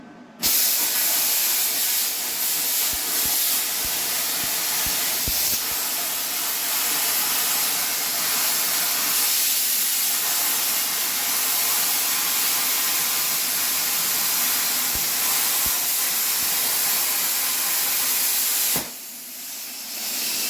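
A plasma cutter fed by an air compressor gives a loud, steady hiss for almost the whole stretch, broken by a few faint ticks and a brief dip near the end.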